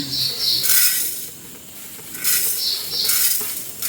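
Spices roast in a dry pan while a spoon stirs them, giving loud close scraping sweeps in two bursts, each with a faint sizzle beneath and a short lull between.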